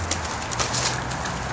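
Hooves of a mustang mare step on the ground during a groundwork training session, a few soft clip-clop footfalls close by over steady outdoor background noise.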